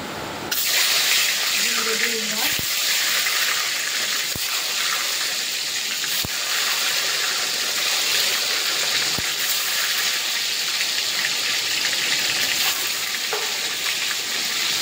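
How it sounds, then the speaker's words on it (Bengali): Lightly scored, salted eggs fry in hot oil in a pan with a loud, continuous crackling sizzle and a few sharp pops and spatters throughout. "ডিমগুলো ভাজা হোক, তবে ফিরছি আবারও।"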